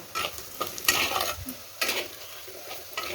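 Onions with salt fried in a clay pot, a soft sizzle broken by several scraping stirs of a spoon in quick bursts, fairly quiet and close, with no talking.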